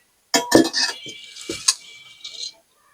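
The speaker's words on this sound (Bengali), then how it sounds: "এলাচ ভাজা হয়ে গেছে, এবার তুমি বেটে নাও" Fried cardamom being ground by hand, heard as a close run of sharp clinks and knocks over about two seconds, with no voices.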